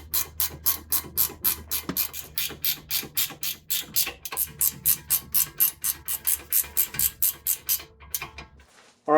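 A ratchet tightens 19 mm bolts on the front axle of a 2008 Acura MDX, giving a long run of evenly spaced, loud clicks close by, each stroke a quick burst, with a brief pause midway and a final thump.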